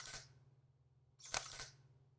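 A Sony a7 mirrorless camera fires its shutter twice: two soft, faint mechanical clicks about a second apart over a low steady hum.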